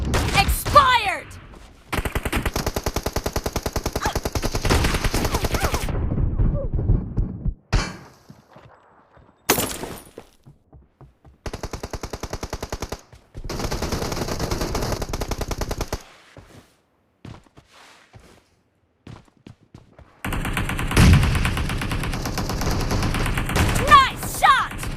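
Rapid bursts of M1014 shotgun fire from a video game, loud and dense, coming in several long volleys separated by short quiet gaps and scattered single blasts.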